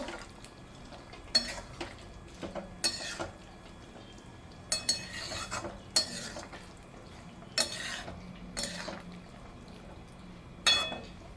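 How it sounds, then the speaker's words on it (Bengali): Paneer being mixed into navratan korma vegetables in a pot, heard as repeated spoon scrapes and clinks against the pot in irregular bursts over a low background hiss, with no talking. "পনিরটাকে দিয়ে আমি ভালোভাবে মিশিয়ে নেব।"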